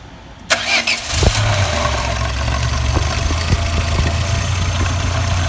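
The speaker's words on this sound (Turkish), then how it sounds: "Çalıştıralım arabayı." A Renault Megane 1 car engine starts after repair work on its oil lubrication pipe: a short starter crank catches, then settles into a steady, loud, low idle heard up close.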